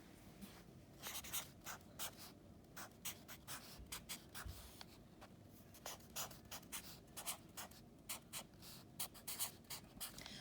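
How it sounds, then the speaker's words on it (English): Math equations written by hand, likely pen or pencil on paper, a close, quiet, steady stream of short scratching strokes in rhythmic bursts, heard alone. "let me go ahead and write my equations down"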